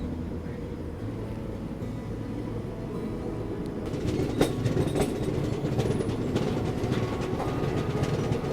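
A Link Express passenger train runs with a steady low rumble of wheels and carriage, growing louder and busier with rhythmic clatter from about halfway through, heard from inside the coach with no talk.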